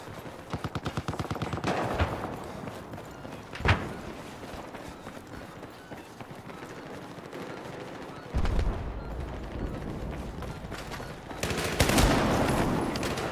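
Close gunfire in the video game Battlefield: a rapid run of shots opens, then single loud blasts and heavier bursts come later amid a background of battle noise, with no talking.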